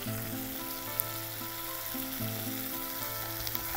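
Chicken samosa stuffing with ginger-garlic paste fries in a pan with a steady, close sizzle and hiss, a low background hum beneath and an occasional faint tick, no voices.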